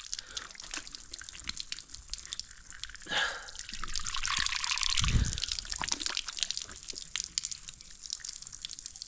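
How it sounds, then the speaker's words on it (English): Well water poured and splashed for washing a face outdoors in Kenya: irregular drips and splashes, then a short gush of pouring in the middle, faint and close with no talking. "I want to wash my face"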